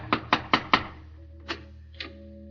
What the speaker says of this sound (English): He knocks on the front door.